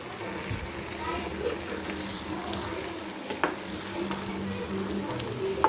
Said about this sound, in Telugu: చక్కగా ఎగ్ బాగా ఫ్రై అయిపోయింది. ఆనియన్స్ కూడా బాగా ఫ్రై అయిపోయాయి.